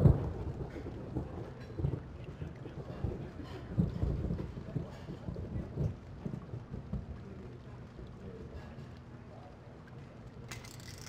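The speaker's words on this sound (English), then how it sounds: "Looks like the rain's letting up." Rain from the video game Tex Murphy: The Pandora Directive, a soft, continuous patter with low rumbling that gradually fades quieter.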